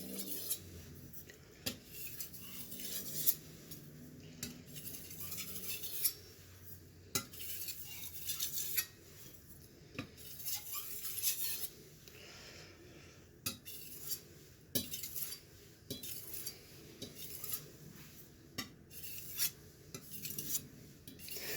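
A cheap soft-steel knife is pushed and pulled across a Shapton Pro whetstone, giving faint, steady rasping strokes in an even rhythm. A few sharper scrapes stand out against a quiet background.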